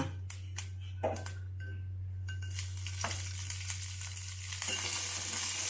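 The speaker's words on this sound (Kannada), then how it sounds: "ಅದಕ್ಕೆ ಹಸಿಮೆಣಸಿನ್ಕಾಯಿ ಹಾಕೊತಾ ಇದ್ದೀನಿ ಸ್ವಲ್ಪ ರೋಸ್ಟ್ ಮಾಡ್ಕೋಬೇಕು ಇದನ್ನ" Green chillies roasting in a spoonful of oil in a pan, a steady close sizzle with scattered clinks and stirring scrapes, frying getting brighter toward the end.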